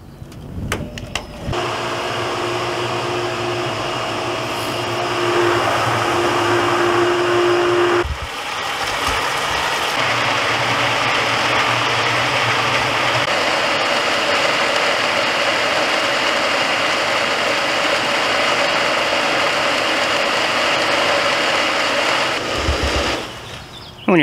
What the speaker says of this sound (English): once you plug it in, the pump will turn on